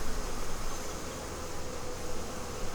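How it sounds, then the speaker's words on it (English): Dense, steady buzzing of honey bees crowding over capped honey on a frame of a failing hive, a continuous close hum filling the clip without talk. "We have bees eating,"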